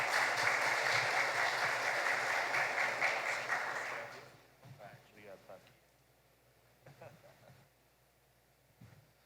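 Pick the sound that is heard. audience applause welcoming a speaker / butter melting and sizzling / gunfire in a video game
audience applause welcoming a speaker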